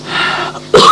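A single cough, followed by a harsher throat-clearing cough, from a person in an old drama scene, close and loud with no talking.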